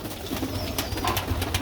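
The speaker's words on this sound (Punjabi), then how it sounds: "ਸਿਆਲਕੋਟੀ ਮੋਤੀਆਂ ਵਾਲੇ ਕਬੂਤਰ ਵਾਈਟ ਟਾਈਗਰ ਇਹਨਾਂ ਦਾ ਨਾਮ ਰੱਖਿਆ ਦਾ" Sialkoti White Tiger pigeons coo softly and close by in a brief, continuous burst of low throaty calls, with no talk.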